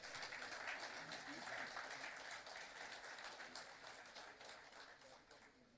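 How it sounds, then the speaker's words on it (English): A crowd at a national convention claps steadily for several seconds, a dense patter of applause that gradually tapers off, heard from some distance. "A big round of applause."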